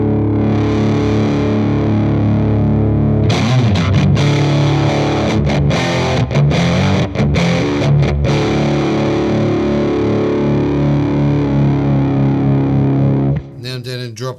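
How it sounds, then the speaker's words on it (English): Loud, heavily distorted electric guitar in drop B tuning through a Sonicake Matribox sustains thick chords, with choppy rhythmic stabs in the middle before ringing out and a final strum. "So it gives you instant drop B or D with some serious distortion."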